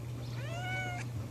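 A cat gives a single clear, rising and falling meow close by against a low steady hum, with no talking.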